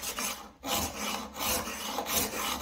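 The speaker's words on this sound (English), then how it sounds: "I'm going to drop that thing in my vise and I'm going to file it" A new steel cabinet scraper clamped in a vise is filed with steady back-and-forth rasping strokes, loud and close, with brief pauses between passes.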